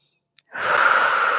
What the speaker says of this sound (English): We're going to hold tension here and breathe into those ribs again.